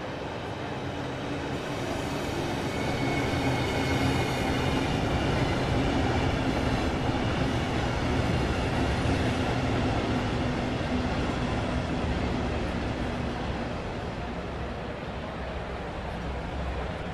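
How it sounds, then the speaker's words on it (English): A train arriving in the Train Sim World 3 video game on the Southeastern High Speed route, a steady loud rumble of rolling wheels and engine drone that holds throughout with faint clattering. "Your train has arrived."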